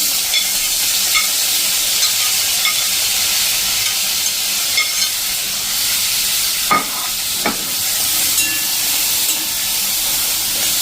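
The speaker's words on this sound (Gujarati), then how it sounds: "હવે જે આપણે આ ટમેટા સમાર્યા છે ને એ નાખી દઈએ" Chopped tomatoes frying with garlic over a medium gas flame for a tomato chutney, a loud steady hiss with a couple of brief stirring knocks, close up and with no voices.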